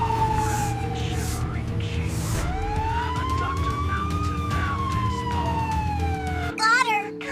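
An ambulance siren wails loudly and continuously, its pitch sweeping slowly up and down before breaking into a fast yelp at the end.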